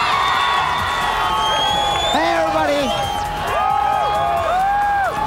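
Crowd at a video game event watching play on an 80-foot screen, cheering and whooping loudly and continuously, with shouts rising over a dense roar and game sounds mixed in.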